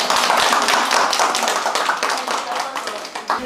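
Audience clapping at a film screening and director talk, made of many sharp hand claps that are loud at first and thin out slightly toward the end, with speech mixed into the crowd sound.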